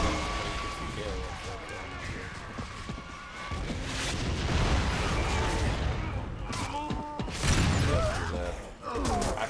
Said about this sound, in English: Oh, goddamn shotgun!